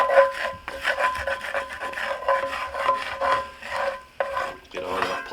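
Continuous rough scraping of a plastic spatula against a cooking pot while making pozole verde, repeated strokes with brief pauses, close and fairly loud, no talking.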